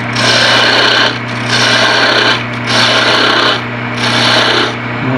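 A woodturning tool takes gentle cuts on spinning wood on a lathe, giving a loud, steady rasping hiss in four sustained passes with brief lulls between them, over a constant low motor hum.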